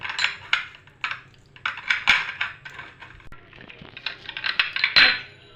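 Hot semai dessert being spooned into bowls, with a string of sharp clinks and scrapes of spoon against dishes, irregular and close, some louder knocks near the end.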